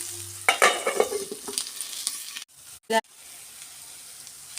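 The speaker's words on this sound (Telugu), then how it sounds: "ఈ విధంగా ఐదు నిమిషాలు నూనెలో బాగా మగ్గించుకోవాలి" Mango pieces for pickle frying in oil in a pan, a crackling sizzle with stirring scrapes near the mic, briefly interrupted before hissing resumes more faintly.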